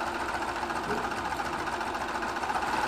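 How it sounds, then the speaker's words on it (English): Sewing machine stitching quilt binding, a fast continuous mechanical whirr with steady rhythmic needle chatter, close and even throughout, without speech. "So I'm going to sew down to about a quarter of an inch"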